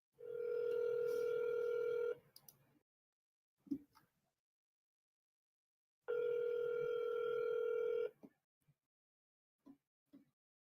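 A phone line gives two long steady ringback tones separated by silence, with brief faint clicks and noises between them as a call is placed.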